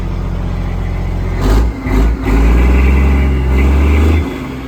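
A loud heavy diesel truck engine idles with a low throbbing rumble, revs up briefly, then settles back into a steady deep drone close by.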